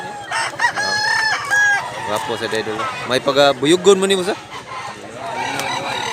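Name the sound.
Gilmore bloodline gamefowl rooster crowing and clucking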